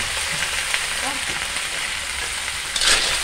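Steady loud sizzling and crackling of snails frying in a pot, continuous throughout with a brief burst of louder hissing near the end.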